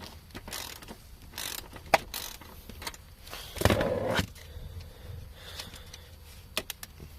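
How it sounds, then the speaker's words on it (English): Ratcheting clicks come from a wrench loosening a bolt on the front seat track of a 2016 Mazda6, a short close burst of rapid ratchet ticks among quieter handling noises. "Just going to loosen that bolt up a bit."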